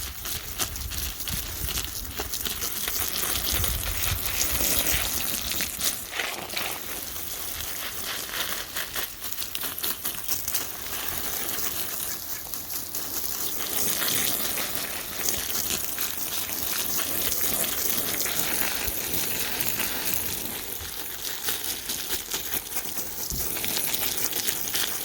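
Water pours onto soil in a raised garden bed as a continuous rushing, splashing stream with crinkly textures, steady and close for the whole stretch, with no voices.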